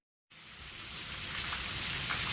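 Rain comes down outdoors over a freshly cut yard. It starts abruptly after a brief silence, then builds into a steady, loud hiss of dense drops with no voices.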